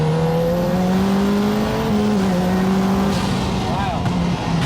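A 500bhp Lotus Elise accelerates hard from inside the cabin, its engine note climbing steadily, then dipping briefly at quick flat-shift gear changes before pulling again, loud and continuous throughout.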